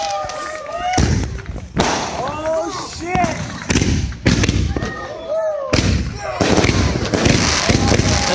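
A fireworks cake called Reaper Dooms fires a rapid string of loud booming shots with crackling tails, heard outdoors at a Fourth of July celebration while people cheer and talk over the blasts.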